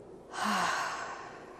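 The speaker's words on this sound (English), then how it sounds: "breathe in gently, hold it for a couple of seconds, and then out nice and gently" One slow, deep breath during a relaxation breathing exercise, a soft airy exhale rising and then tapering off, close and alone.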